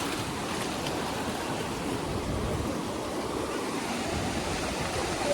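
Sea waves at Digha beach roll in as a steady, dense wash of surf noise with wind, continuous and fairly loud throughout with no break.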